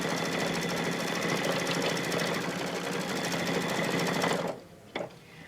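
Embroidery machine stitching around an appliqué flower on an in-the-hoop quilted placemat, a loud steady rapid needle clatter running continuously for over four seconds, then cutting off abruptly with a brief knock after.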